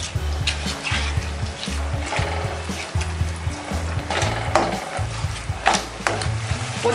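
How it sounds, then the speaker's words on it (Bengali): Taro leaves (kochu shak) stir-fried in a pan with sugar, slit green chillies and salt for a Bengali vegetarian dish, with a steady close sizzle and repeated scraping strokes of a spatula, no talk. "আমি এখন নেড়ে ভাজা ভাজা করব।"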